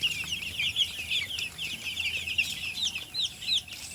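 Weak, overheated broiler chicks in a poultry shed, recently vaccinated, chirp in a steady, busy stream of high, thin peeps over a low background hum, with no voices.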